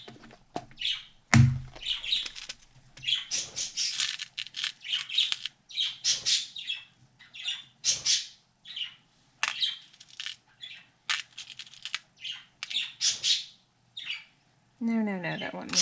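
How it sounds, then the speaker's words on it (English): Birds chirp in quick, bright bursts throughout, with short calls scattered close by and a few soft knocks mixed in. "We hear you, birds. We hear you."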